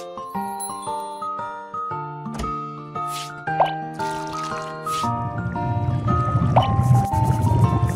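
Milk being poured in the Little Panda's French Restaurant cooking game: bright plinking, bubbly cartoon tones step up in pitch over background music, with a watery trickle that thickens near the end.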